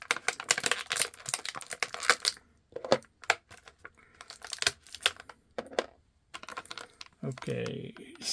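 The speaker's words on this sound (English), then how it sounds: "forces you to cut the plastic and pray you don't cut the accessory" Crinkly plastic blister packaging on a retro carded Snake Eyes figure is cut and torn nearby, producing irregular crackling, snipping and ripping bursts with brief pauses, while a person speaks intermittently.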